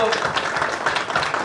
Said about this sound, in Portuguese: podemos aplaudir o grupo